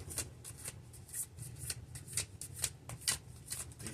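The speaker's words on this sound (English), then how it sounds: "maybe these other two cards that I'm about to draw could be you" Tarot cards being shuffled by hand, a rapid rhythmic series of soft riffling flicks, close and quiet, with no talking.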